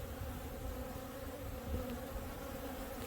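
Honey bees buzz in a hive's honey super packed with bees and honey, a faint, steady, close hum of many wings with no voices.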